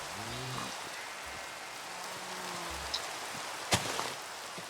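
Steady rain falling in Minecraft, a continuous hiss of even loudness throughout, with faint low game tones underneath and one sharp click near the end.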